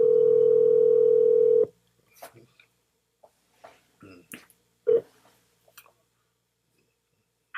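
Telephone dial tone droning loudly for under two seconds, then cut off, followed by scattered faint clicks and ticks of dialing and line noise in near silence.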